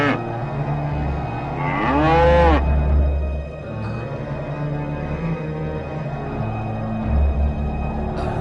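Cow in an animated cartoon about the yellow heifer lets out a long, wavering moo midway, with low music or ambience underneath before and after.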